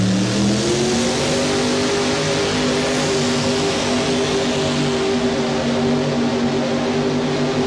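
A mini rod pulling tractor's heavy engine roars steadily at high revs at a tractor pull, its pitch climbing slightly and holding, loud and continuous throughout.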